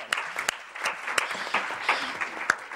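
Applause at the first session of a transparency forum, moderate clapping from a modest audience with several sharp individual claps standing out from the steady patter.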